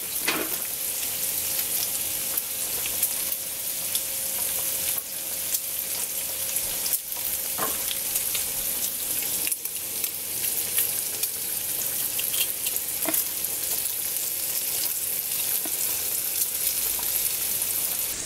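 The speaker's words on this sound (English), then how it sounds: "The bacon is beginning to break up into smaller pieces, so it's time to add the garlic." Bacon and garlic fry in a pan for spaghetti carbonara, giving a steady, close sizzle and crackle that runs unbroken throughout with no voices.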